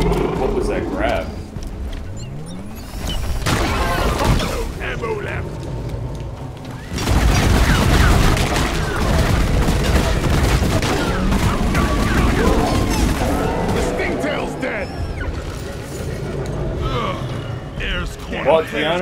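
A minigun fires in a video game, long continuous loud bursts of rapid gunfire with booms and mechanical clatter, someone talking over the barrage.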